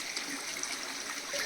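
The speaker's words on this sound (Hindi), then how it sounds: "जगह है जहाँ से भी पानी आ रहा है।" Rainwater runs down a seasonal stream channel in a Himachal village, a continuous soft rushing and trickling wash at low, even volume with no talk over it.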